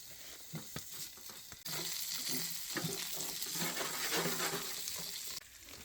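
Pork belly sizzles loudly in a pan for a stew cooked in a hot tent, a steady frying hiss with scattered pops and crackles, louder through the middle and then easing back.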